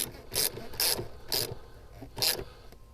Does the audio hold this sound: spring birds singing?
no